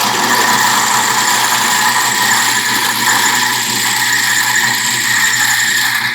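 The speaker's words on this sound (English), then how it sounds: "let's change over to a little smoother rasp to get a little better finish on it" A smoother rasp works against a wooden dowel being shaped without a lathe, likely spun by a power tool, giving a loud, steady, close grinding hiss over a continuous motor hum.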